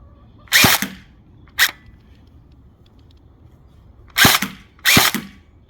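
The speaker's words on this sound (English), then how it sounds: "Just want to shoot from here to make sure that the hop-up's working okay." Four sharp shots from a licensed H&K airsoft gun fired at a target 10 yards away snap out at irregular intervals, each a quick crack with silence and faint room noise between.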